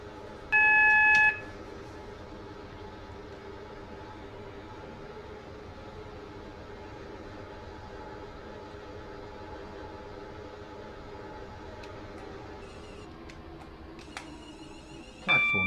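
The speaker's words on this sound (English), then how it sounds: "Where's that train I hear?" A Roblox Stepford County Railways train approaches a station with a steady electric hum and rolling rumble, marked by a short electronic beep tone near the start and another beep sequence at the end.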